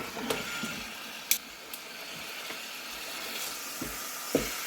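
Chicken thighs searing in a Ninja Combi with the lid propped partly open, giving a steady, moderate sizzle with a few sharp clicks and clunks along the way and no talking.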